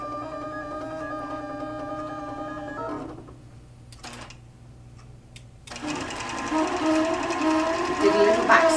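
A computerized quilting machine stitching a crosshatch pattern whines steadily for three seconds, falls quiet with a few clicks as it jumps position, then resumes louder, rapid stitching close by.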